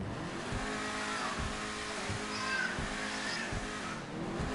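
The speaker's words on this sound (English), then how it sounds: "We're doing an engine show off right now." Car engines revving in a GTA 5 engine show-off between a Ferrari and American muscle cars: a loud, close engine roaring and rising in repeated rhythmic surges, with a hint of tire squeal and no talking.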